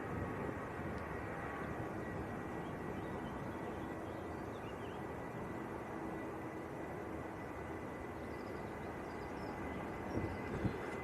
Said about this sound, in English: So the Aer Lingus just landing in from Dublin.